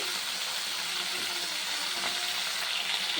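Okra, potato, onion and tomato frying in a pan give off a steady, close sizzle with faint stirring scrapes, continuous and fairly loud for a few seconds.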